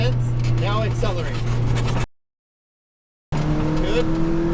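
A McLaren 570S GT4 race car accelerates on a track at Speed Vegas, its engine a loud, rising drone that is close and constant, cut briefly by a silent gap.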